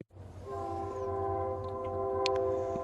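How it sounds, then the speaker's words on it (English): A passing train sounds a long, steady horn, its sustained tones holding at fairly close range over a low rumble of rolling wheels, with a few faint clanks near the end. "Let me put this on so you don't hear the train too well."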